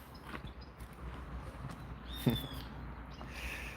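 Wild birds in sunny woods give faint, scattered calls, including a brief chirp and a thin whistled note, over a quiet outdoor background.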